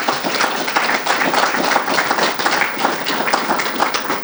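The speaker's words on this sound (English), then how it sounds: "So let's give them a big round of applause." A forum audience gives a big round of applause, a thick continuous roar of many hands clapping close and loud without a break.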